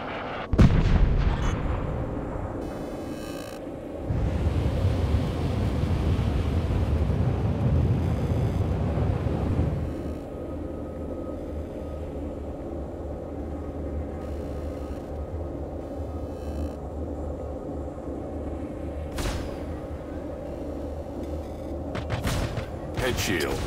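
An Aegis Vanguard ship in the video game Star Citizen comes under weapons fire, with heavy booming impacts and rumbling blasts that surge, then ease into a steady low roar, while sharp shots punctuate it and spoken alerts occur intermittently.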